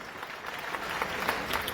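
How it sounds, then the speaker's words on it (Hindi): An audience at a political party rally in New Delhi's Talkatora Stadium claps to welcome a guest, giving steady crackling applause that swells slightly toward the end and stays moderately distant. "जोरदार ताली बजा के इनका स्वागत करिए।"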